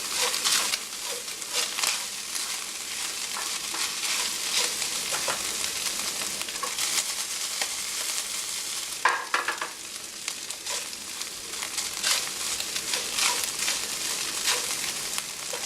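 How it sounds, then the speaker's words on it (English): Garlic and ginger frying in a pan for mapo tofu, a steady hissing sizzle with frequent scraping stirs and a brief louder clatter around the middle. "So we want to cook the garlic and the ginger"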